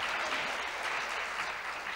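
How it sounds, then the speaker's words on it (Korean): Steady applause from the audience at an academic health research conference, a continuous even patter of many hands heard alone and held at moderate level throughout. "힘찬 박수로 맞이해 주시기 바라고."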